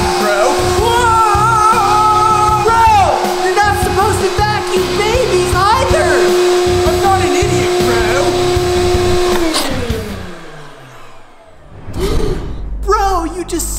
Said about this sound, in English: We need to start vacuuming.